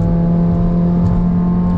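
Toyota Yaris with a CVT drones at steady cruising speed, a loud continuous low hum with a constant engine tone and road whir, heard close from inside the cabin with no talk.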